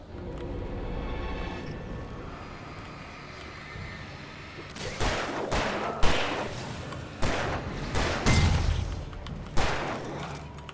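Several sharp gunshots ring out in Alan Wake Remastered after a quiet ambient stretch, spaced irregularly over the last half with a few booming hits.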